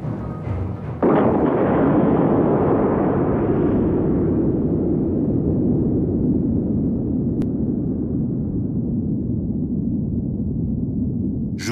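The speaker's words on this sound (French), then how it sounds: "une bombe atomique est lancée à 8000 mètres d'altitude" A Soviet atomic bomb, dropped from 8000 metres during a 1954 nuclear test south of the Urals, bursts with a sudden loud blast that rolls into a long, deep, sustained rumble fading slowly.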